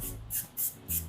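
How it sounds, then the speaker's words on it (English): Three short hissing bursts from a can of grease pan spray misted lightly onto a silicone macaron mat, each a quick airy spritz with brief pauses between. "Next trick, pan spray, which is a grease spray in a can. We're just going to lightly spray this"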